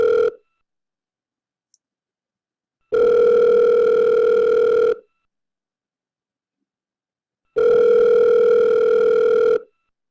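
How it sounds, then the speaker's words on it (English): Slideshow telephone ringing effect: two long electronic rings, each about two seconds, separated by silence, clear and close with a steady tonal buzz. "the phone does ring 3 times."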